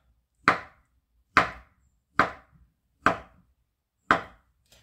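A knife chops an avocado into cubes on a cutting board, with five crisp separate knocks at an uneven steady pace, each sharp and close with a quick decay into silence.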